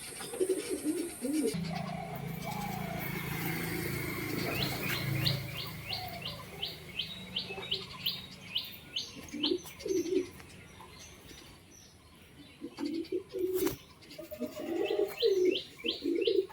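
Several low coos from Madras pigeons come in short bursts alongside rapid chirping birds, with a rumbling background noise early on.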